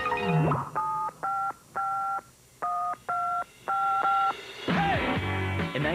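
Telephone keypad tones beep in a quick series of seven evenly spaced dual-tone presses, loud and clear, framed by brief musical sounds before and after.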